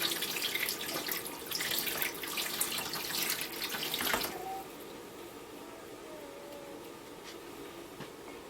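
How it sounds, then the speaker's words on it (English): Water runs from a tap as a spatula is rinsed during homestead soap making, a loud steady splashing stream that cuts off abruptly about halfway through, leaving quiet room tone. "I'm going to rinse my spatula."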